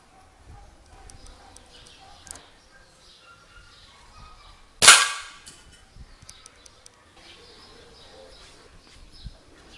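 An air rifle pellet strikes a cooking pan with a single sharp metallic clang, loud and close, then decays over about a second amid quiet background with faint birdsong.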